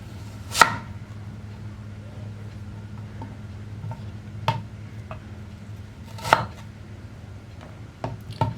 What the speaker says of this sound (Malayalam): ഇനി നമുക്ക് സവാള അരിയാം.